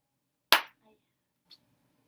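A single sharp clap, followed by a faint second tap in near silence.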